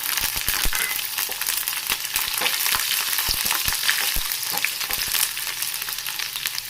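Mustard seeds and garlic fry in hot oil in a pan for an avarekalu palya, crackling loudly and continuously close up, with sharp popping spatters scattered through the sizzle.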